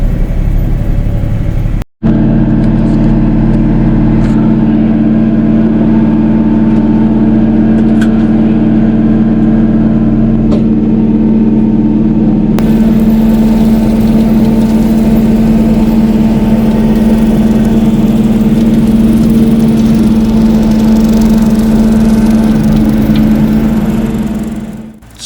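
A 2023 Kioti NS6010 tractor running a bush hog mower across a steep pond dam drones steadily and loudly, its engine holding a constant low hum with mower rumble and no voices throughout.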